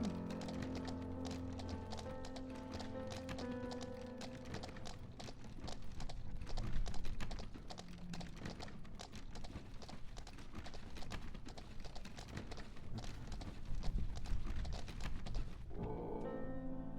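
Horse hooves clip-clop steadily while pulling a cart in the video game Nightsoil, a continuous rhythmic clatter over a dense layer of in-game music and ambience, with no talk.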